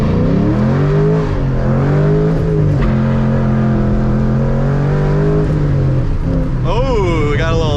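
A Ford Mustang engine revs hard as the driver's side rear wheel spins in a puddle, a loud sustained roar rising and falling in pitch, with a brief higher whine near the end.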